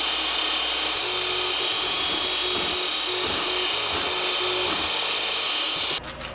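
A steady, loud high-pitched whine of a drill boring 5/32-inch holes in metal runs throughout, with a faint tonal hum beneath, cutting off abruptly near the end.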